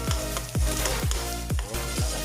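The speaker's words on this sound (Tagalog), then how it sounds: "igisa lang sa tunga ang sibuyas o ang bawang guys" Onion and garlic sautéing in a pan after hotdog and ham were cooked, a steady close sizzle with a regular thumping beat about twice a second.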